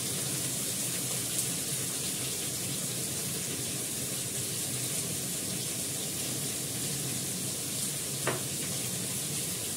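Potatoes fry in hot oil with green chili, a steady close hiss of sizzling with a few brief crackles and spits, and no voices.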